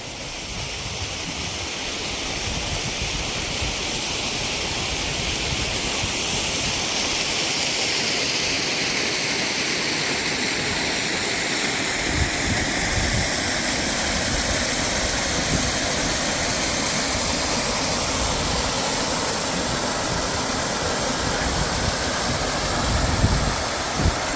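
Water flowing from natural ponds at Ranikot Fort in Sindh, Pakistan, a steady broadband rush heard alone, constant and fairly close with slight swells throughout.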